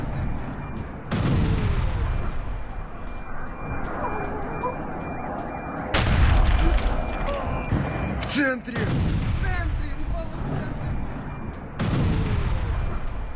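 Heavy booming blasts from a missile strike on an oil depot erupt about three times, each followed by loud roaring rumble and crackling, with a faint whistling tone mixed in.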